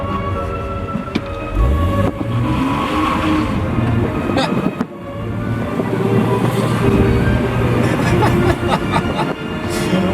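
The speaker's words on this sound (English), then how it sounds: "Can you wheel spin an old Volvo while there's a new classic FM?" An old Volvo car does a wheel spin, its engine roaring loud and close with rising revs and sustained tyre noise, while a voice talks over it.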